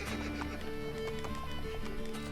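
A horse runs in Assassin's Creed Brotherhood, its steady clip-clopping hoofbeats fairly faint beneath a continuous bed of game ambience and sustained tones.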